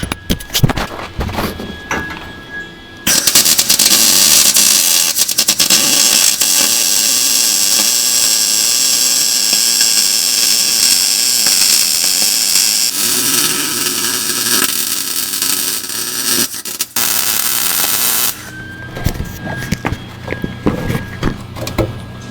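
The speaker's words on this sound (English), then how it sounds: "We're ready to start welding." Welding on a roll cage being built for a Hillman Husky: a loud, steady buzzing crackle runs unbroken for about fifteen seconds, close up, with quieter shop noise before and after.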